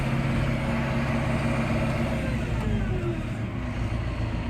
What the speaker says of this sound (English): Let me get this tractor stopped.